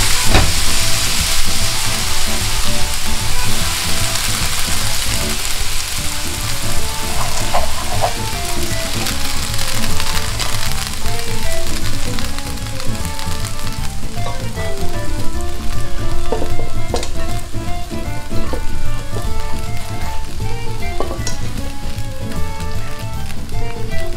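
Pasta for spaghetti carbonara fries in a pan, giving a loud continuous sizzle and crackle with faint stirring scrapes throughout, close up and with no talking.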